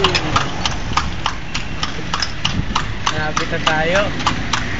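Horse hooves clip-clop in a steady, regular rhythm from a horse-drawn kalesa, moderately loud over an idling engine rumble, while people talk nearby.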